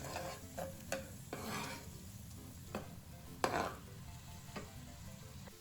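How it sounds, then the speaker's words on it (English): Chicken and lemon pasta stirred in a pan, a handful of scraping strokes over a faint steady sizzle, close and fairly quiet. "let's give it a quick stir."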